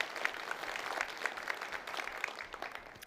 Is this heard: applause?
yes